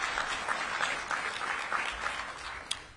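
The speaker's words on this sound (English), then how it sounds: "Let's give them a round of applause for all their efforts as well." Audience applause at a public event in Washington, D.C., with a steady wash of many people clapping at moderate distance that holds evenly for a few seconds, with one sharper clap near the end.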